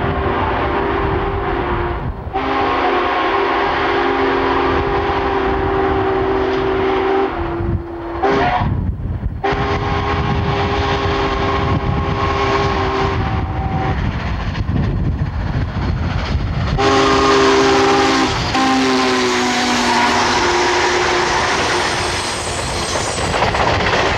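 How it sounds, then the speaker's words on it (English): Union Pacific 844 steam locomotive hauling a long excursion train east through western Missouri, a loud continuous rumble of rolling cars with steady mechanical roar and clatter, sustained throughout with brief dips, no talk. "We see the impressive consist winding its way east through western Missouri."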